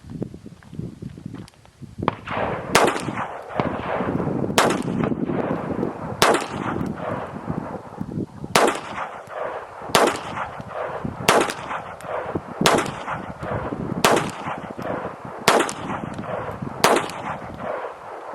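A .22 rifle firing Remington Golden Bullet ammunition, about a dozen sharp, loud cracks spaced a second or so apart over steady outdoor background noise.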